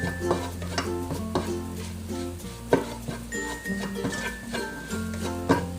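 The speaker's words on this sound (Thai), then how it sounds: "น่าจะเติมกะปิลงไปหน่อยนึงค่ะ ลงไปคั่วด้วยกันเลย" Minced pork curry with shrimp paste stir-fried in a pan, a steady sizzle broken by repeated scraping and clinking of a utensil against the metal, close and loud with no voices.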